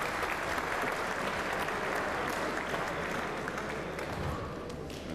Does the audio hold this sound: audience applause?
yes